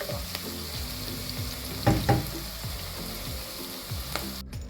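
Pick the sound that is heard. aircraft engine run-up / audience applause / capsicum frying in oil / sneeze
capsicum frying in oil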